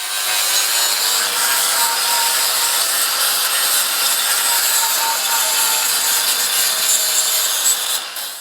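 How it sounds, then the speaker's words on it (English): A cylinder block milling machine cuts into an outboard engine block, giving a continuous harsh, hissing metal-cutting roar that holds steady and loud for several seconds before tapering off at the end. "Fortunately, I have a cylinder block milling machine here, so we'll try that."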